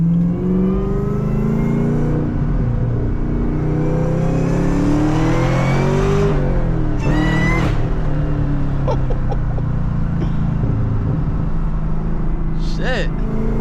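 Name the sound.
car engine revving while driving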